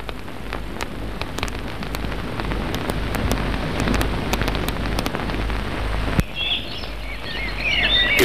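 Steady rain patters outdoors in summer, dense drops hitting surfaces close by with a few sharper splashes, while birds chirp faintly near the end; no one speaks.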